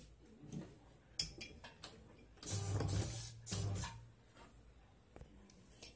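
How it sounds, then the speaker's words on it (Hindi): A sewing machine runs in two short bursts, stitching along the folded top edge of a fabric handbag, with a steady mechanical whir between softer clicks and handling sounds in a quiet room. "यहाँ पे ऐसे फोल्ड करके ऊपर हमें स्टिच करना है"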